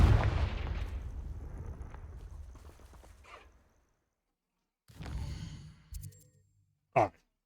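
A Confringo fire spell blasts in Hogwarts Legacy with a booming explosion that rumbles and fades over several seconds, followed after a short silence by a smaller burst, a clatter and a sharp final crack.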